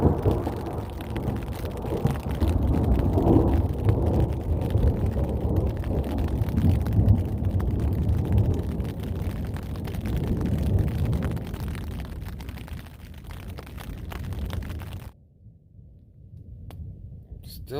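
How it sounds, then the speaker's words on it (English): Thunder rolling through the Three Sisters Wilderness on the Pacific Crest Trail, a loud low rumble mixed with steady rain that fades before a quieter stretch near the end. "Still thundering."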